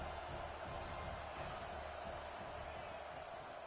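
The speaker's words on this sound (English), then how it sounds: "The Tide crowd roaring noise down onto Saban Field on 3rd down." Alabama Crimson Tide fans roar at Saban Field on third down during a college football game, a dense, steady stadium wash that holds at an even level from start to finish.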